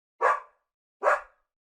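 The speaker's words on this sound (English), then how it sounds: "dog" A cartoon dog gives two short, sharp barks about a second apart, close and clear against silence, with no talking.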